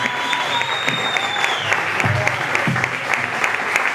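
An audience applauds at a live concert, the clapping dense and steady throughout, with crowd murmur, some whistling, and brief vocal sounds mixed in.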